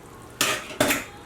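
Jollof rice being stirred in a pot over reduced heat: two brief scraping swishes, each a burst of broadband rustle lasting about a third of a second, close and fairly loud, with no talking.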